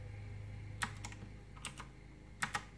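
Keys clack in small bursts on a gaming keyboard with blue mechanical switches, LED backlit with anti-ghosting, crisp, close clicks over a low background hum.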